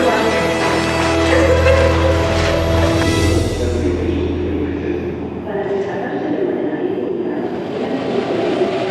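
A Paris metro train rumbles loudly and steadily at close range, with a low heavy drone that gradually thins and fades as it passes, and people talking over it.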